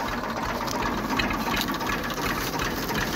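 A Massey Ferguson 240 tractor engine idles with a steady, loud, close diesel rumble that runs unbroken and alone, no voices on top.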